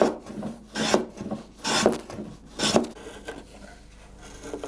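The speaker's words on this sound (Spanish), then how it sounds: "perfila con cepillo y cincel una forma trapecial en cada uno de los refuerzos" Hand plane and chisel shaping trapezoidal wooden reinforcement bars for a chicotén string instrument, three strong rasping strokes followed by lighter scraping, close up with no speech.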